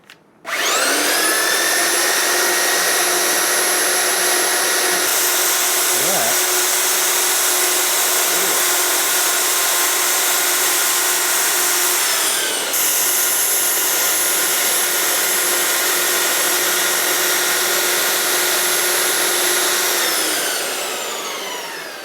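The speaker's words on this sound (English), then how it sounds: "We're just going to use the belt sander on the edge like that and hope for the best." Belt sander grinding along the edge of a bandsaw part, a loud steady high-pitched motor whine with dense harmonics running continuously for about twenty seconds, with brief load changes midway and near the end, no talking.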